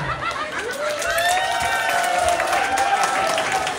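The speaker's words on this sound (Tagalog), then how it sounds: "palakpakan sigawan sa number 1" A live comedy show audience in Vienna, Austria, bursting into applause and cheering for contestant number 1, a dense steady crowd roar of clapping with shrill cheers and whistles rising above it.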